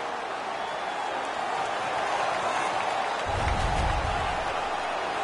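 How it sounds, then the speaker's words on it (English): Home crowd in the NHL 19 hockey video game, Winnipeg Jets hosting the Los Angeles Kings, roaring in a steady wash of arena noise that swells louder with a low rumble near the end, after a fight on the ice. "The home crowd is ecstatic. They're making all kinds of noise."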